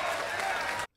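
Audience clapping at a comedy show, a steady burst of applause with crowd noise that cuts off abruptly near the end.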